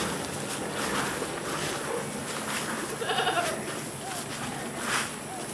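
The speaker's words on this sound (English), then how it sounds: "is taking care of the goats" Goats on a farm bleat faintly through a steady outdoor background, with a few short wavering calls in the latter half of the stretch.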